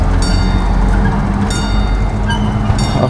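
A train pulls into a station with a steady, loud rumble of wheels and carriages, brief high squeals rising above it, heard close by with no talking.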